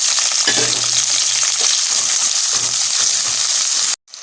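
Chopped onions sizzle steadily in a hot pan for toor dal onion sambar, a loud continuous frying hiss with light stirring scrapes, cutting off abruptly at the end.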